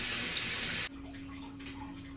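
Omega shaving brushes rinsed under a running tap, a loud steady hiss of flowing water that cuts off abruptly partway, leaving faint drips and a quiet room hum.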